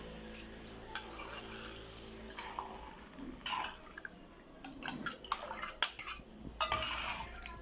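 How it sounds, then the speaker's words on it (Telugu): Fried tempering is tipped into a pan of tamarind curry, making close metallic spoon clinks and scrapes on the vessel along with wet stirring sounds in irregular bursts. "పోపు పెట్టుకున్న ఫ్రైని వేస్తున్నానండి ఇందులో"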